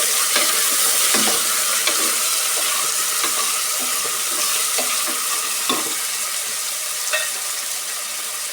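Chopped carrots and vegetables fry loudly in oil in a pan for a high-protein rice usli, a dense continuous sizzle broken by clinks and scrapes of stirring.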